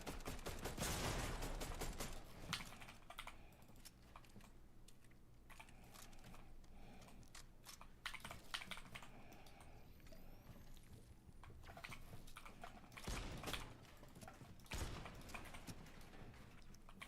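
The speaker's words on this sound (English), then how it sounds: "Me just focusing on the keyboard sounds?" Computer keyboard typing clatters in dense, irregular runs of sharp clicks, moderately close, with pauses between bursts and no talking.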